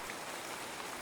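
Steady rain falling, a dense even hiss of drops with no gaps or voices, soft and continuous throughout.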